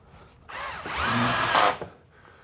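A power drill driving fine threaded drywall screws into resilient channels: one loud whining burst of about a second and a half, the motor rising and then stopping, close by with no talk.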